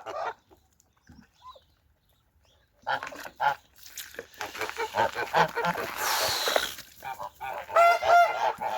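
Domestic geese honk in a yard during freezing winter weather, loud repeated calls building from scattered notes into a dense noisy flock chorus, with a voice talking among them.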